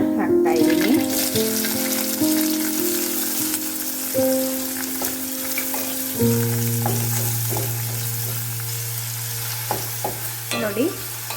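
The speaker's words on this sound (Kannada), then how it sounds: "ಜೀರಿಗೆ ಸ್ವಲ್ಪ ಚಟಪಟ ಅಂತ ಇದೆ" Cumin seeds spluttering and chopped medium onion frying in oil for onion rasam, a steady loud sizzle with scattered crackles and stirring scrapes, a steady hum running underneath.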